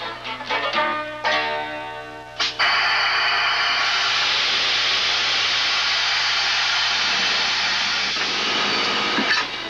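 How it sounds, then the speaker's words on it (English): A few clanks and metallic tones from steam locomotive number 4449 give way to a loud, steady rush of hissing steam that continues for several seconds at close range. "I take the fire and I make steam out of it. Lots of steam."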